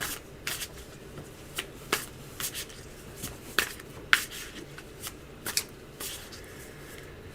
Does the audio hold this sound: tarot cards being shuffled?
yes